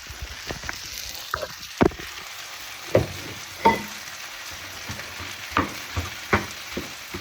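Eggs dropped into a pan of rice and chicken sizzle and fry quietly, with sharp scraping and clinking stirs of the utensil at irregular intervals.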